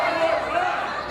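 Wrestling crowd at an AWE Culture Shock match, Dementia D'Rose vs Mickie Knuckles, cheering and urging on a second senton bomb; a steady, dense roar of many voices fills the hall over a short stretch.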